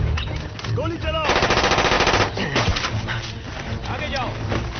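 Rapid machine-gun bursts in a Hollywood action movie battle scene, loud sustained automatic fire with overlapping shots, mixed with shouted voices and engine-like rumble.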